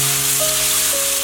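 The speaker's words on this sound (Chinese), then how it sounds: "先小火炒至肉丁变色， 继续翻炒" Diced pork stir-fried in a wok, started over low heat in cold oil in a hot pan: a steady, close, bright sizzle with faint tones in the background.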